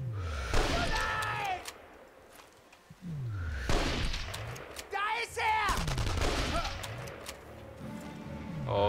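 Repeated bursts of gunfire in the war shooter video game Enemy Front, with loud volleys and rapid firing spread across the stretch, and a voice talking at times beneath the shots.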